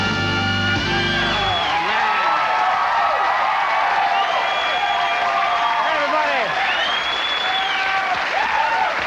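A 1990s late-night studio audience greets Conan O'Brien's show with sustained loud applause, cheers and scattered whoops, roaring like a sports crowd with no break.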